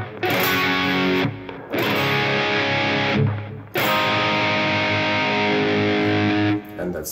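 Distorted electric guitar plays the turnaround from a song, sustained driven phrases with two brief pauses, loud and close.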